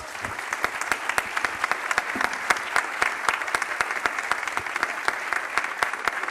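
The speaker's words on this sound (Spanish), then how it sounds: "Un aplauso para todos ellos." A crowd at a music-industry panel discussion claps steadily and energetically throughout, dense applause with sharp individual claps standing out, fairly close and sustained.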